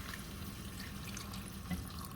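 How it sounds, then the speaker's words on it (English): Broth for corned beef and cabbage is poured into a pot along its sides, a soft, steady trickling stream of liquid, faint and close, with no talk over it. "we're going to go in with this beautiful, beautiful broth. I'm going to go along the sides here."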